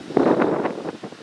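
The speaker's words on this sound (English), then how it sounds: "The wind's blowing" Wind blows at the beach as a steady broadband rush, with gusts swelling and fading over a second or so, up close to the microphone.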